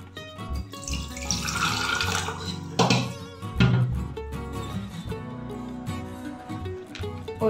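Homemade rose apple wine is poured into a glass jar, giving a faint, steady liquid trickle with splashing and light clinks against the glass, heard alone.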